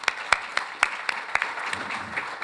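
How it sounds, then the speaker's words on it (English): An audience gives a round of applause for the speaker Doug Terreson at an investor event. The clapping is fairly faint and thin, with several sharper individual claps standing out at irregular intervals over about two and a half seconds. "A big round of applause for Doug"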